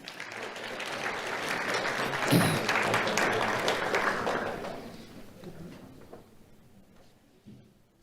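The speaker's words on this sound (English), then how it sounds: "Let's have a round of applause for Lariah Wharton" An audience at a Do The Right Thing awards event applauds a young award recipient, Lariah Wharton, with steady clapping that swells briefly, then fades over several seconds, ending with a faint thump.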